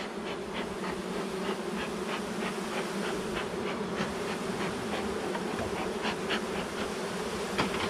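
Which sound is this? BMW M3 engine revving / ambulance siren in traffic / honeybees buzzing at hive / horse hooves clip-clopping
honeybees buzzing at hive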